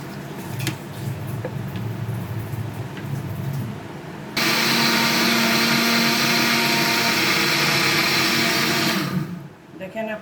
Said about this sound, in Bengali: এটা এই মুহূর্তে ব্লেন্ডার করে নেব।